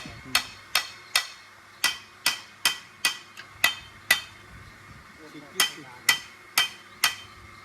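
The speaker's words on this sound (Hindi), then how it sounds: "हल्का ऊपर चोट मार दे हल्का हल्का" A hammer taps lightly on a large tractor wheel bearing, about fifteen sharp metallic strikes in an uneven rhythm with short ringing decay, close and distinct, with a brief pause midway.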